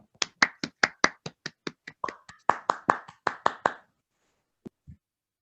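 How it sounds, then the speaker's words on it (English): An online audience gives a brief round of coordinated claps for a speaker after a talk, about fifteen sharp, evenly spaced claps over four seconds, then a short pause and two faint final taps. "Should we do one of our video claps for Matt?"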